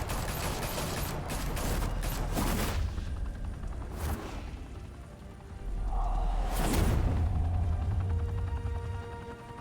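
Gunfire in Batman: The Telltale Series: sustained bursts of rapid shots that fade, pause briefly and then swell again, loud and dense, with whooshing effects and no speech.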